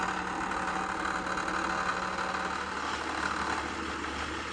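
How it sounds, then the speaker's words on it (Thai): An idling engine with a loose exhaust pipe that has no retaining clamp on one side, giving a steady close rumble with a faint continuous rattle and no talk over it. "เสียงท่อไอเสียครับ ถ้าท่อไอเสียแน่นก็จะไม่ดังครับ"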